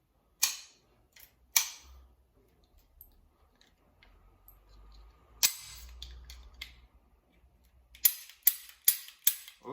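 A Kimar 85 blank pistol fires sharp, cracking reports, two early, one mid-way and a rapid burst of four or five at the end, with quiet mechanical handling between.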